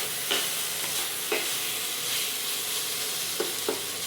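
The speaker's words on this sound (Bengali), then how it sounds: "এখানে বসিয়ে দিয়েছি আলু ভাজা, কাঁচা লঙ্কা দিয়ে" Potatoes frying with green chillies in a pan: a constant, close sizzle with a few sharp stirring scrapes spaced through it.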